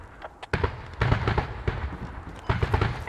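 Rocket blasts in a multiplayer shooter game, several loud sharp explosions and cracks in quick succession, with rumbling between the bursts.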